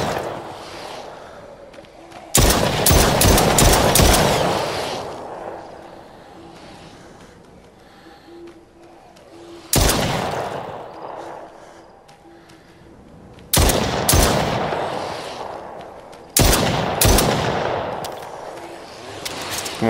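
Loud gunfire from The Brookhaven Experiment, played in VR, comes in four separate bursts of rapid shots with echoing decays, and quieter stretches of ambience between them.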